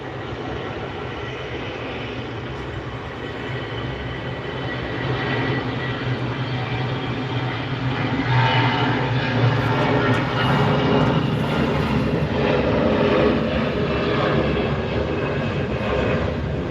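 A jet airliner taxis onto runway 24 right at SNA airport, bound for Boise, its steady engine roar growing louder partway through and holding as a continuous near broadband rumble.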